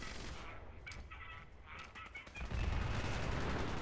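Grenades explode in the Fallout 76 video game, a rapid clatter of bursts and gunfire-like cracks, with a heavier rumble in the last second.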